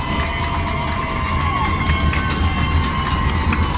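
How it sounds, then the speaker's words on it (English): A crowd gets loud at a Division I middle school football championship game between Gamble Rogers and Murray Middle, a sustained roar of cheering that holds steady throughout, with a faint whistle-like tone running underneath. "Crowd getting loud."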